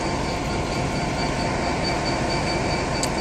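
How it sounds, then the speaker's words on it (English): An IET passenger train runs into Westbury station bound for London Paddington, making a loud, steady, continuous rumble and roar of wheels and engine at close range, with a faint high squeal near the end. "So we got another IET coming in now, going to London Paddington."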